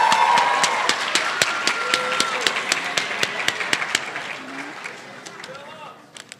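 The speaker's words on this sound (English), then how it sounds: "Give you guys another huge round of applause." A school poetry recitation finals audience claps in a dense round of applause that rings out loud at first, then thins to scattered claps as it fades, with a voice speaking over it.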